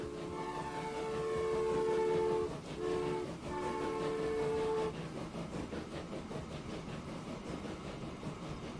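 A long train in the game Transport Fever 2 rumbles along with a sustained horn-like tone that sounds, breaks off briefly, then resumes before giving way to steady rolling rail noise, heard alone at moderate level.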